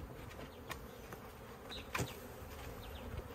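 A faint, steady buzz of many honeybees humming close by at a hive, with a few soft clicks and knocks in the background.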